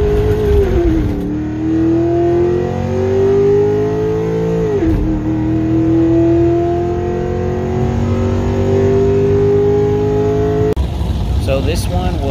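A Pontiac G8 accelerating down a drag strip on its first run, the engine droning loud and close as it climbs steadily through the gears with a noticeable shift, then cutting off near the end.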